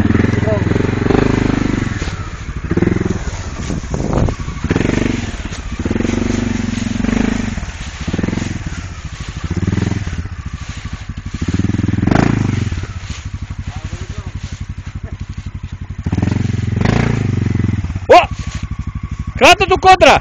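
An ATV engine revs in loud, uneven bursts while the machine climbs, the throttle surging and easing off repeatedly, with people shouting and talking over it throughout.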